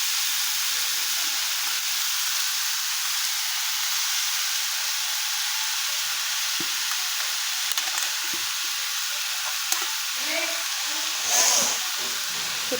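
Mashed potatoes fry in a pan for a Guntur Karam dosa, giving a steady, close sizzling hiss that runs the whole time, with faint scraping stirs and a brief louder burst of sizzle near the end.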